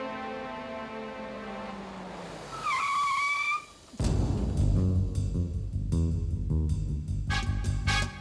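A car turning on command, its tires squealing in a rising whine over engine rumble, followed by a harsh extended skid with scraping and crackling, loud and close, no talk.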